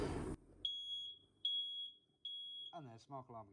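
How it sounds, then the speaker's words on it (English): A smoke alarm gives three evenly spaced high, piercing beeps in a quiet room during radiator soldering work, followed by someone speaking briefly. "And there's smoke alarm again."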